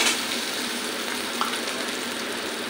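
Ginger and garlic paste frying in oil: a steady, close, bright sizzle with a faint crackle, unbroken and alone, with no talk.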